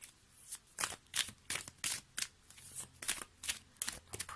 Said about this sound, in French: j'ai trop de cartes qui se sont retournées.